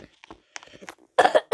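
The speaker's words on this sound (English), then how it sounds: "Yeah, sorry about my coughing." Coughing fits, with a couple of short coughs early and a louder burst of harsh, rasping coughs near the end, heard close and alone.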